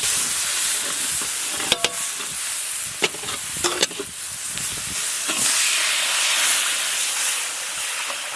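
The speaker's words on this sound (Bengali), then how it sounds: "দারুণ ফুটছে, দারুণ ফুটছে" Prawn masala curry bubbling in a pan, a loud steady hissing sizzle broken by a few sharp clicks and scrapes close by, with no talking.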